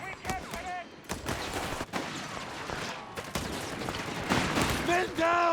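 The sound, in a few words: MP40 gunfire, from video game Company of Heroes 3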